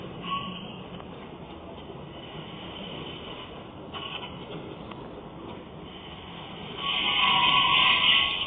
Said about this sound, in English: This is the Heathrow Express from Heathrow Terminal 5.